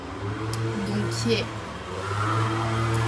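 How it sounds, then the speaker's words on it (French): Steady road traffic rumbles past close by in a town street, cars passing under a woman's continuous French speech. "pour le bruit de la circulation, j'espère que ça ne sera pas trop dérangeant."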